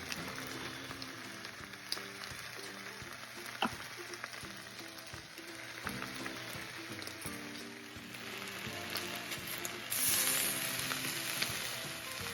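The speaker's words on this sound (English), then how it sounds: "Time to fry it up." Slices of Taylor ham frying in a pan, a steady sizzle and crackle throughout with scattered pops and light clinks, growing a little brighter and louder toward the end.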